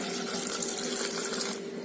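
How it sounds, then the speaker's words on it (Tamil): Water pours steadily from a tumbler into chilli sauce ingredients (salt and spices) in a cooker pot. It makes a continuous close splashing trickle for under two seconds, then eases off. "இதில் இப்போ கால் டம்ளர் தண்ணி ஊற்றுறேங்க"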